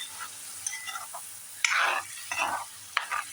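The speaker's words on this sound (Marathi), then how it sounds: "आता हे चांगलं फ्राय झालं पाहिजे." Mixed vegetables with garlic fry in a pan, cooked raw and not steamed beforehand: a soft background sizzle broken by several loud, close stirring and scraping bursts at irregular intervals, with no talking.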